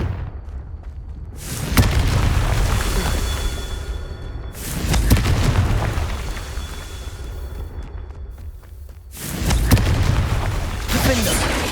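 Booming spell explosions in the video game Hogwarts Legacy, a Confringo blast among them, come as loud broad bursts, several of them with short gaps between, over a low rumble, with voices calling out spells.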